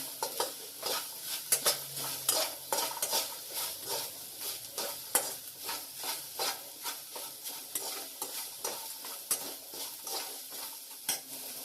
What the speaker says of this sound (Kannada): ಈಗ ಬೆಂಡೆಕಾಯಿ ಚೆನ್ನಾಗಿ ಫ್ರೈ ಆಗಿದೆ